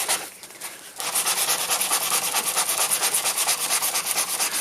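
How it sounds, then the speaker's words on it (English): Old painted fibreglass being sanded by hand with coarse 80 grit sandpaper, a short pause followed by close, steady, rhythmic scratchy rubbing strokes. "as I rub through it with this 80 grit"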